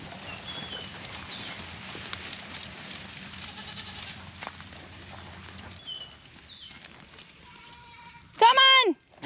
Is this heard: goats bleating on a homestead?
yes